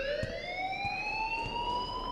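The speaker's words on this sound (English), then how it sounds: "please turn off that alarm" A school alarm in the Life is Strange game wails with a steady, rising electronic tone and stacked harmonics. It sounds loud and continuous, with faint thumps underneath.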